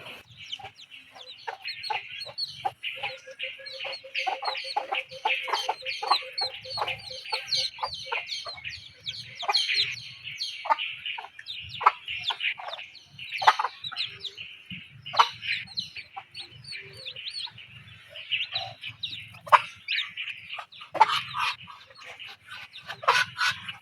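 Pet ducks quack and chatter in a continuous flock, with repeated overlapping calls, some loud and close and others fainter, over a quiet background.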